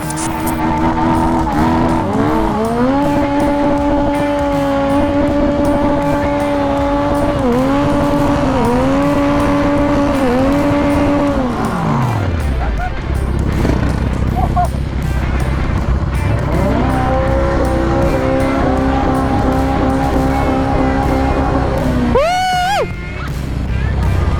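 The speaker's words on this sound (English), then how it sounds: "These bikers decided to celebrate their graduation by doing some burnouts in the parking lot" Motorcycle engines roaring steadily in a parking lot during burnouts, revving with shifting pitch and ending in a brief squeal of tires. The sound is loud, close and continuous, with no voices.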